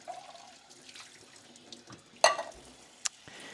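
An empty bean can is rinsed out under a running kitchen tap, giving a soft, low-level trickle of water with a couple of sharp metallic clinks near the end.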